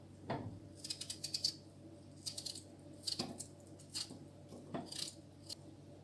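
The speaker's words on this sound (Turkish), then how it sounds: "3 adet Orta boy patatesim var. Küp küp doğruyorum." A knife dices three medium potatoes into cubes on a cutting board, with short clusters of quick, crisp chops separated by brief pauses and occasional louder knocks. The sound is quiet and close, with no talking.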